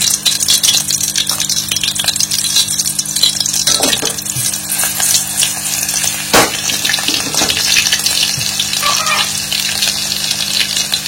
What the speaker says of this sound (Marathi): तर या साईडला आपली मच्छी होतीये फ्राय